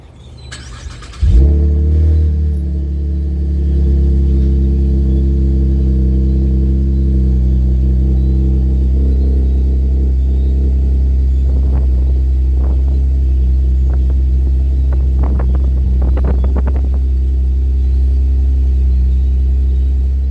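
A car engine turns over in the cold and catches abruptly, settling into a loud, steady low idle with a rumble that continues throughout, with brief clicking and rattling near the end.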